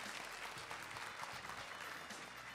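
Audience at a parent talk concert on Korea's free semester program applauding, a steady wash of clapping at a faint level for the whole stretch, with no speech over it.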